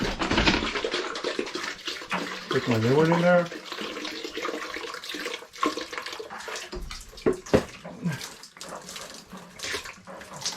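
Water gushes and splashes steadily from the pressure relief valve of a full hot water tank, with someone speaking briefly over it and occasional metallic clanks.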